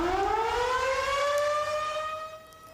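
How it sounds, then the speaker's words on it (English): CFA fire station siren sounding in memorial, a civil-defense wail holding a steady rising tone with rich harmonics, fairly distant, then fading toward the end, no speech. "CFA brigades sounded their station's sirens 4 times at 20 to 6 this evening"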